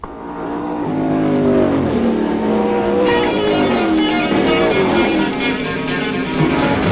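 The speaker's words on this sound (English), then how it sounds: "So get ready, because here come the outlaw racers." An outlaw race car roars on a short track, its engine loud and close as it accelerates hard. The revving pitch climbs steadily and holds throughout with no talk.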